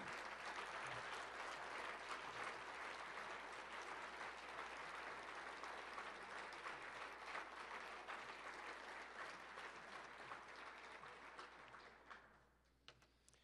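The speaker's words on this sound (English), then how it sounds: "please join me as we have a round of applause" Sustained applause from an audience at a bowling hall of fame induction, a dense wash of clapping that holds steady before tapering off near the end.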